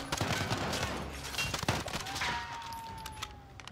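Rapid gunfire in Call of Duty: Modern Warfare, a dense fusillade of sharp cracks and thumps, fairly close and loud, with little talk over it.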